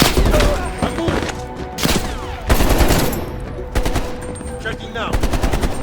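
Rapid automatic gunfire and heavy shots in Call of Duty Black Ops Cold War combat, loud and close, with bursts of sustained fire and sharp single shots interrupted by brief gaps, while a voice speaks briefly over it.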